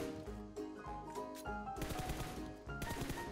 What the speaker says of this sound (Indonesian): Nembakin itu, nembakin ujung pohon